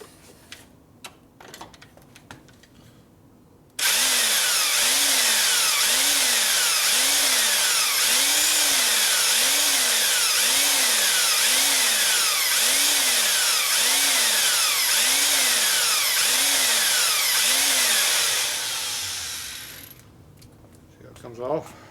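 A power drill whines loud and close for about fifteen seconds, its pitch rising and falling rhythmically as it bores out a stripped Allen bolt on a Harley Showa fork, with brief clicks and handling noise before and after.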